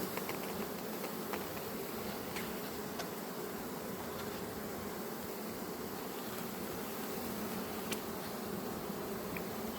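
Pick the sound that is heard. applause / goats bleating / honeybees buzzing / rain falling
honeybees buzzing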